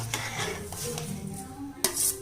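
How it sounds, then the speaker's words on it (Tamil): A spoon scrapes and clinks against a pot while roasted semolina is stirred into boiling coconut milk, with a faint bubbling simmer underneath and a sharper knock near the end. "இப்போ ரவையை வறுத்து அதை கொட்டி கிண்டிக்கும்."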